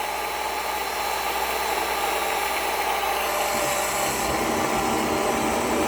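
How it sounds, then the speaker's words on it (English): A small portable handheld USB rechargeable blender runs with a steady, continuous motor whir, close and fairly loud, the pitch shifting slightly near the end as the contents churn. "You could carry it around while this thing is blending."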